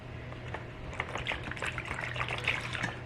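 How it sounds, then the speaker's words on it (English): Low sodium soy sauce is poured into a measuring cup in a home kitchen, a soft, continuous liquid trickle with gentle splashy texture for a few seconds. "I also need 3/4 cup of low sodium soy sauce."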